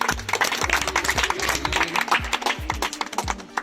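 Scattered hand clapping from a small audience at a children's general knowledge quiz, close and uneven with distinct individual claps and a faint background hum.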